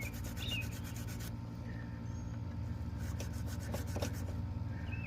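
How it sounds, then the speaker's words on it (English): Rust is scraped out of a bolt hole on a Farmall 300 Row Crop tractor, giving a continuous rough rubbing and rasping sound close by over a steady low background hum. "I'm going to clean this hole out a little bit. Get some of this rust out of there"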